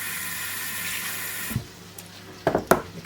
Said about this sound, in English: I'm going to have to put some water in this now,